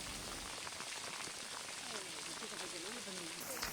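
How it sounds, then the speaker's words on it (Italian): Rain falling steadily in a desert canyon in the Mangystau region, a dense continuous hiss and patter, close and constant, with faint wind and a voice talking under it. "Ancora oggi le sue forme sono modellate dagli agenti atmosferici, tra cui vento e questa fastidiosa pioggia."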